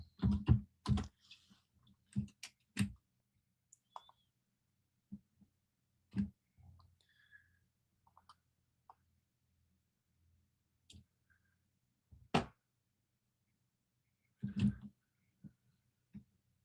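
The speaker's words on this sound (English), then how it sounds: "Red Dragon keyboard." Typing on a Red Dragon keyboard, with irregular bursts of sharp key clicks and clacks at close range and short pauses between them.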